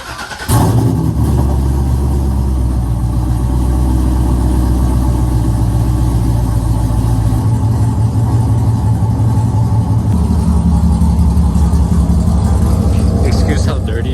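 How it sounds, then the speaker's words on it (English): A C6 Corvette V8 with a cam upgrade cold-starts loudly and settles into a rough, lumpy idle, a continuous heavy low rumble close to the mic with a drop in pitch partway through. "let's go here, cold start and idle so we can compare the before and"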